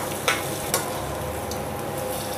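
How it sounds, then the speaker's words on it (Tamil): Onions sautéing toward golden brown for vegetable biryani, an even close sizzle with two quick scrapes of a spoon early on. "வெங்காயம் நல்ல பொன்னிறமாக வதங்கி வரணும்"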